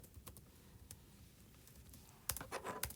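Someone taps numbers into a graphing calculator: soft, quiet key clicks scattered irregularly, then a quick cluster of firmer presses near the end.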